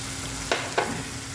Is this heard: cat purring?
no